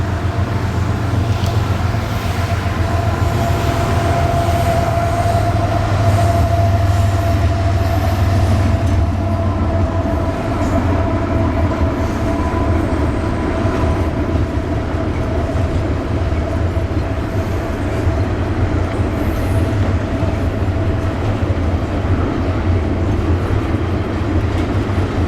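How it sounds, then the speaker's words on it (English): A CSX heritage locomotive, unit 3194, rolls past a road crossing in Covington, Georgia, with a loud, steady rumble of engine and wheels that holds for the whole stretch and carries no talk. "And here's the train."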